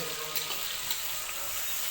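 Spiced masala frying in a pan for a pangas fish curry, a steady broadband sizzle with no pauses and no talk over it.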